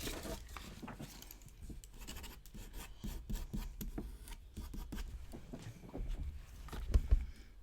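Fountain pen loaded with sketch ink scribbling on scrap paper, a close, dry scratching and rubbing of nib on paper in quick irregular strokes, with a couple of louder knocks near the end and no talking.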